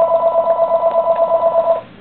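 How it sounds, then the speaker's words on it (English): A telephone ringer gives off a steady electronic warble with a rapid regular pulse, loud and close, running without pause for nearly two seconds before it cuts out. No one speaks over it. "Uh-oh, phone."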